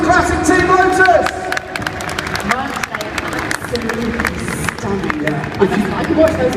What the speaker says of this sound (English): Round of applause, please, for classic Team Lotus!